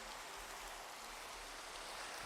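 Steady rain hisses in the video game Minecraft, a dense, even patter of falling drops that stays constant and fairly faint, with no talking.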